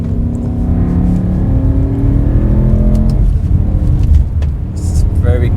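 A Volvo S85 V10 with a swapped DCT gearbox kicking down in manual mode, the engine note climbing loudly and steadily before a quick shift drops the pitch, heard from inside the car.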